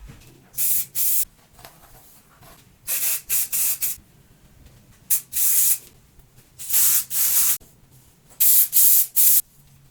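Miel hair spray is sprayed from a can in a series of sharp, hissing bursts, some single and some in quick clusters of two or three, loud and close with short silences between.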